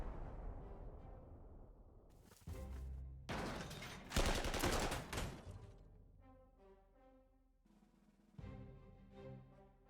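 Artillery and gunfire roar through a World War I battle video game on PC: loud booming blasts and rattling bursts of shots, separated by ringing, tonal tails and short gaps.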